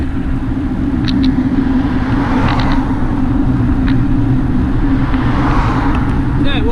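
Road traffic streaming off the M40 motorway, a continuous low rumble of passing vehicles with faint creaks and clicks on top, steady and fairly loud throughout.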